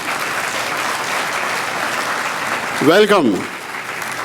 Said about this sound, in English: request all others to give them a round of applause.